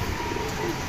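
Racing pigeons circle overhead during a flight training session, their soft cooing heard briefly over steady outdoor background noise.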